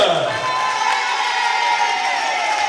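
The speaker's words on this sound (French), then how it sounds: "Des applaudissements pour la Miss." Crowd at a Miss Ronde Martinique 2014 pageant cheering and whooping for the newly crowned Miss, a dense, steady wash of shouts and applause filling the room without pause.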